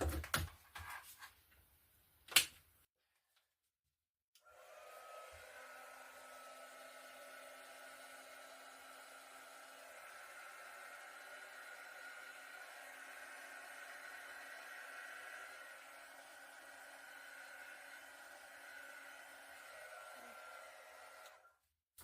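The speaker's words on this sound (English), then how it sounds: "let me just hit this with a heat gun" A heat gun blows steadily over an acrylic pour on a ceramic bathroom tile, its soft, even airy hiss running for nearly twenty seconds after a couple of brief clacks at the start.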